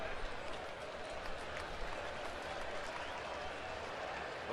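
Baseball crowd at an AL Wild Card game in a packed stadium, a steady wash of distant applause and cheering that holds at an even level throughout, with faint voices mixed in.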